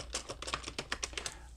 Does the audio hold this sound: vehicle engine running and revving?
no